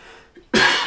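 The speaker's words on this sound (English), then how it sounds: "that must be why I cough so much" A single sharp, loud cough bursts out close to the mic after a brief quiet moment and trails off raspily.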